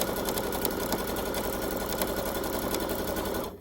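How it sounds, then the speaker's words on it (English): Running a steady stitch down the bottom seam of a simple fabric drawstring bag, a sewing machine whirs loud and close at an even fast pace for several seconds before stopping abruptly. "then I'm sewing down the bottom"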